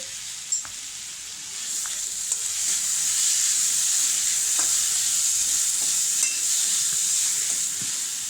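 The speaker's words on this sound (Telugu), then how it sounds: "ఒక్క రెండు స్పూన్లు ఆయిల్ వేసుకుని మనం ముందుగానే అల్లం తురుముకున్నాం కదా ఇది వేపుకుందాం" Grated ginger fries in a couple of spoons of oil in a pan for pickle, giving a steady bright sizzle that fills the whole stretch, close up, with occasional faint clicks of stirring.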